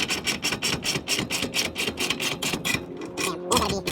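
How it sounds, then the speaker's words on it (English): Bolts are tightened on a Prinsu roof rack mount for recovery boards on a 2020 Toyota Tacoma TRD Off-Road, a fast series of close ratcheting clicks in rapid rhythmic bursts. "Tighten them up."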